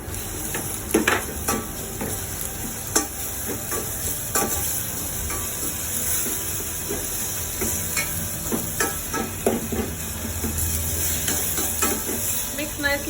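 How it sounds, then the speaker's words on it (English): Garlic ginger paste frying over a low flame in a pan, with a steady sizzle and hiss and the repeated scrape and tap of stirring running throughout. "Fry on low flame until the raw smell of the garlic ginger paste completely gone."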